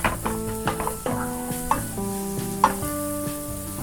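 Chopped onion and bell pepper sizzle steadily in a pan while a utensil stirs them, producing close, continuous frying hiss broken by frequent scrapes and knocks against the pan.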